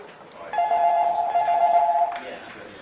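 In a busking pitch booking office, a telephone rings with a steady electronic trill that sounds for about one and a half seconds, followed by a faint click.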